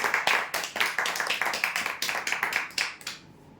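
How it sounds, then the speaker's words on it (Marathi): Audience applause for prize draw winners at an event, a burst of rapid clapping from a small crowd that carries steadily for a few seconds and then fades out. "जोरदार टाळ्या होऊ द्यासाठी"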